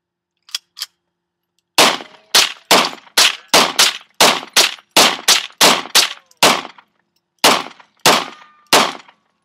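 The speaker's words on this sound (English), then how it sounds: "we're gonna shoot it. Obviously, TV." Gunshots fired at a television, about fifteen loud, sharp reports, two quick ones first, then a steady run of closely spaced shots with short silences between them.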